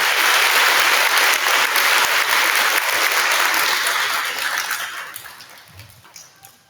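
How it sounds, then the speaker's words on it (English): Sustained applause from a crowd at a kindergarten awards program, loud and steady at first, then gradually thinning out and fading toward the end. "Let's give Miss Newton's class a round of applause"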